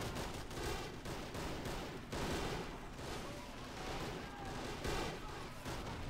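Dense rifle fire from Men of War Assault Squad 2 crackles continuously in the distance, many overlapping shots in irregular bursts forming a steady fusillade at fairly low level.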